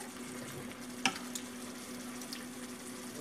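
Beef stir fry simmering on medium-low heat in a pan with spices and sauce, giving a steady soft sizzle throughout with a faint clink near the middle and no talking.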